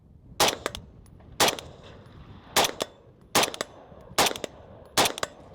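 Six loud, sharp rifle shots at a 70-yard range, evenly spaced about a second apart, each with a quick secondary crack or echo; the rifles compared are a T36C, a SCAR 16 and a Bren 2MS with an 11-inch barrel.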